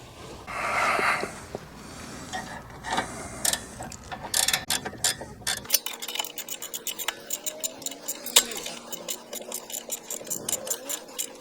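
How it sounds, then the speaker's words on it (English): A torque wrench tightening a sway bar end link on a Dodge Avenger, Chrysler 200 or Sebring front suspension, heard as a long series of close, sharp ratcheting clicks with metallic clatter and handling noises. "I'll bring up the torque wrench and put the torque spec on it"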